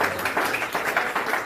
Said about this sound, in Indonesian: Tepuk tangan untuk Yesus Kristus.